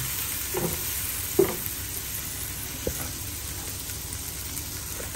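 Chopped onion frying in a pan for pork estofado: a steady, close sizzle with a few soft utensil knocks and stirring clicks scattered through it.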